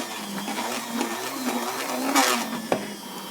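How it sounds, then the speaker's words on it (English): Blender whipping very cold skim milk into a thick foam for a low-calorie dessert, a steady close whirring drone that swells briefly as the blender is lifted to pull in air, ending with a sharp knock. "I'm lifting up the blender to make sure I incorporate a lot of air in here"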